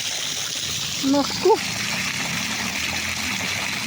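A broken faucet or pipe gushes water at night in a steady, close, hissing rush, with brief exclamations from a voice rising above it twice.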